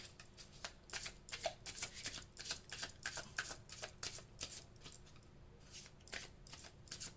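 Playing cards are drawn and shuffled close up in a quiet room, giving a fast run of soft crisp riffles and flicks at a low level throughout.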